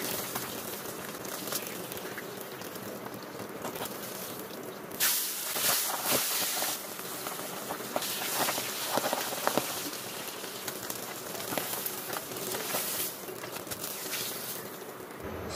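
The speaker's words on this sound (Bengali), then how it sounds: "সবগুলো মাছ একে একে আমি ভেজে নিচ্ছি।" Pabda fish pieces fry one after another in hot oil, giving a continuous close hiss of spattering with crackling, swelling louder in bursts midway before settling back into an even sizzle.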